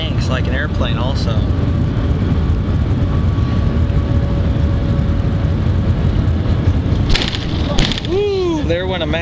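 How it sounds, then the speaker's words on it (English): Shanghai maglev train rushing past alongside another maglev in motion, a loud, steady roaring whoosh filling the scene, with a sharper burst toward the end and a voice calling out over it. "There went a Maglev right next to us, just scared the crap out of me."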